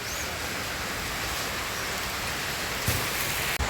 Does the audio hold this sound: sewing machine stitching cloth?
no